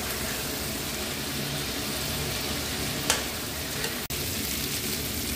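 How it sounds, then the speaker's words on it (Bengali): Potatoes and fried soybeans stirred into spices in hot oil for a spicy soya dish, a steady soft sizzle throughout with a couple of brief scraping clicks from the spoon. "আমি আলুগুলো দিয়ে দেব, আর যে সোয়াবিনগুলো ভেজে রেখেছি সেগুলোও দিয়ে দেব। দিয়ে ভালো করে মশলার সঙ্গে মিশিয়ে নেব।"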